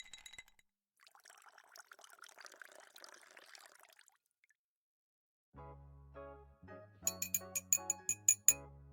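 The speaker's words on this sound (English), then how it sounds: "let's pour them a drink" A drink is poured into a glass, a faint, brief splashing trickle heard close up, followed by a burst of music.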